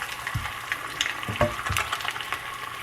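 An egg sizzles in a skillet coated with non-stick spray, a soft, steady frying hiss close by with a few brief clicks and scrapes, no voices.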